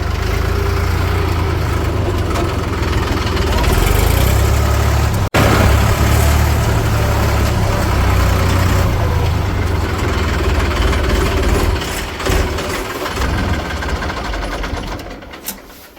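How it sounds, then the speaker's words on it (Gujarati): A tractor engine idles steadily throughout on a farm where fertilizer baskets are being loaded, a continuous low mechanical rumble at close range that thins slightly toward the end. "તો અહીંયા ટ્રેક્ટર લઈને જવાનું હોય ખાતરની બાસ્કી ભરીને."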